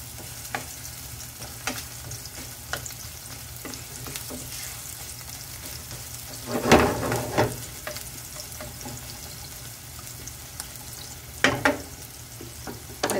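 Sliced onions frying over high heat in a pan, a steady loud sizzle with a spatula scraping and stirring now and then and a few sharp clacks against the pan.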